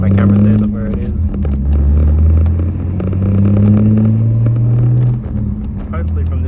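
A Ford Mustang engine runs steadily on a test drive, a loud low drone that rises and falls slightly as the car moves, heard from inside with road rumble throughout.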